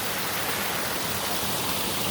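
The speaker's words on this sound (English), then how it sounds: "There's Rosie enjoying the waterfall" Small garden waterfall in a backyard food forest, a steady close wash of splashing, rushing water that fills the whole moment without a break.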